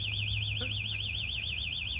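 A car alarm blares with a steady, fast-warbling siren tone, loud and unbroken throughout, over a low engine-like hum.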